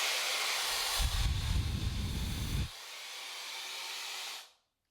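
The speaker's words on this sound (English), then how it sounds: "I'm gonna put the heat all the way up, and I'm just gonna kind of like a rough dry my roots." A Shark Glam hair dryer styler runs on its wet-to-dry setting with the heat turned up, giving a steady, loud airy whoosh. A deeper roaring surge comes in for about a second and a half, then the flow carries on more evenly until it cuts off abruptly.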